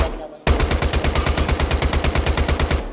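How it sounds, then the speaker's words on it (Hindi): Rapid automatic gunfire in the video game Lost Night, a loud, close, evenly spaced burst of shots that starts abruptly after a short quiet moment and runs to the end. "उधर से फायर आ रही, मेरे ख्याल से फायर की आवाज"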